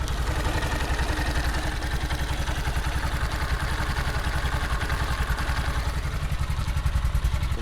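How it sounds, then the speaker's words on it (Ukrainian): A Hercules 250 cargo tricycle's engine runs steadily at idle, a close, even chugging rumble with faint clatter throughout. "Мікрофон в руках, послухайте роботу двигуна."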